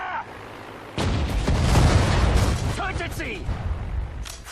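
Anti-tank grenades go off in the Sudden Strike 4 battle of Tobruk as a dense run of booming blasts and crackling gunfire, starting abruptly after a second and rolling on loudly to the end, with speech mixed in.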